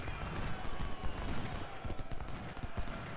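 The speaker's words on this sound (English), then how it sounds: "Cannons are firing at them from the flank now." Cannon fire in an Ultimate General: Civil War Gettysburg battle, heard as a dense, continuous din of rapid volleys and low thumps with no quiet gaps.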